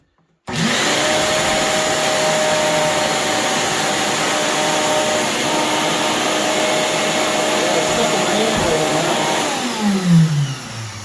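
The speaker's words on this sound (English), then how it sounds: "This is also a blower. So you take this off, you can have a blower." A powerful Ridgid shop vacuum running as a blower roars steadily at close range, a loud constant whooshing drone that starts abruptly and shifts pitch near the end.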